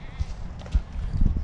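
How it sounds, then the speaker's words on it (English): A sheep at a petting farm, where goats are being fed carrots, gives a few short, rough bleats close by amid low rustling and shuffling. "There's a sheep."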